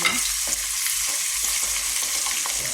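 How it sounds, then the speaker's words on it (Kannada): Chopped onion, moong dal and peanuts frying in hot oil for quick pudina rice, a loud, dense, continuous sizzle close up, with soft stirring movements underneath and no talking. "ಈಗ ಚೆನ್ನಾಗಿ ಫ್ರೈ ಮಾಡಬೇಕು ಉಳ್ಳಾಗಡ್ಡೆ, ಹೆಸರು ಬೇಳೆ ಮತ್ತು ಶೇಂಗಾವನ್ನು"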